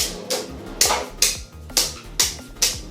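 Beyblade spinning tops clash repeatedly on a bounce track in a battle, six or seven sharp loud metallic-plastic impacts at a quick, slightly irregular pace with a steady whirring hum underneath.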